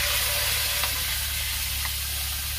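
Prawns fry in hot oil with turmeric and salt, producing a dense, loud, even sizzle close by, with a couple of faint clicks from stirring and no speech.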